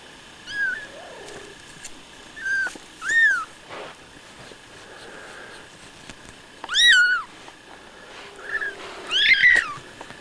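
Six-day-old kittens mewing in high, thin cries, several separate calls spread through the clip, some overlapping, close and fairly clear against a quiet background.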